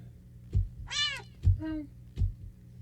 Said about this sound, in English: the cat yodeled loudly, intensely upon your lap